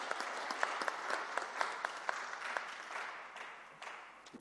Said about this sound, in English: Shall we all welcome her with a big round of applause?